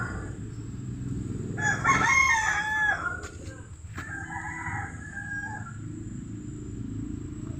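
Chicks and poultry in a new coop call out close by, with a loud crowing burst and clucking notes rising over a low background hum.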